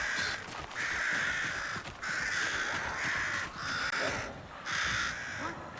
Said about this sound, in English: Those crow sounds really linger.